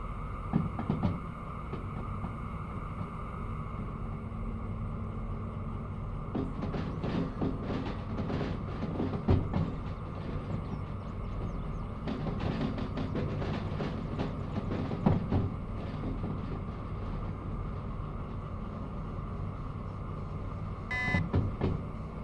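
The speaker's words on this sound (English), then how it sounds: "A little bit of train brake." A train in the Derail Valley simulation game rolls along its rails with a steady low rumble, periodic clanks and rail clicks, and a brief high brake hiss near the end.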